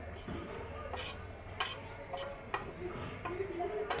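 A spoon scraping and clinking in a bowl while potato dough ingredients are mixed, giving soft, irregular clinks over a quiet background.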